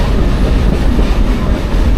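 Heritage train on the Black River & Western Railroad rolling along, heard from onboard as a steady loud rumble with low rhythmic clatter of wheels on track, continuous throughout.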